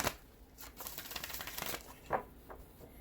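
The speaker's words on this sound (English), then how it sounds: "let's do one more shuffle" A deck of cards being shuffled close up, a dry papery riffling and rustling that swells in the middle and ends with a few sharp flicks.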